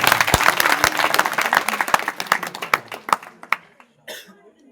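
Enthusiastic applause for the organising committee at a Mahanubhav saints' gathering, dense clapping from a crowd that thins into scattered claps and a cough before fading.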